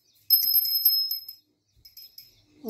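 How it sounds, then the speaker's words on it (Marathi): A small puja bell rung by a little girl during a Shravan Monday prayer, bright metallic ringing in a quick run of strikes, then a few softer rings after a pause, near and clear. "घंटी"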